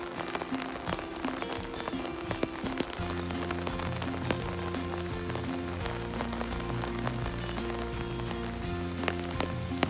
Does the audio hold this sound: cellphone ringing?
no